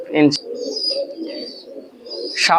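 A male Dabla breeder pigeon of an imported high-flying bloodline coos close up in a low, throaty, rolling run of soft calls, with brief sharper sounds at the start and end.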